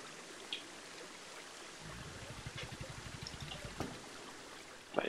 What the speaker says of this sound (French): Pas mal ma cascade.